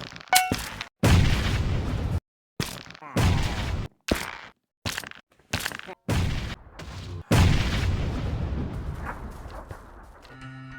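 Minecraft explosions blowing up rooms in a pillager town: a rapid series of loud, booming blasts with sharp onsets and short gaps, repeated many times, ending with a lingering rumble.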